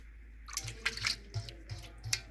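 Water is poured off while koki beans are washed by hand, giving soft, intermittent splashes and trickles up close over a steady low hum.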